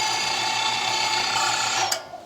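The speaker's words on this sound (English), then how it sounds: "Going on with the old 5mm die today. And simply enough, through the grinder we go." A meat grinder forces chilled beef through a 5mm die, giving a loud, steady mechanical whir with a bright metallic whine that holds evenly before cutting off abruptly near the end.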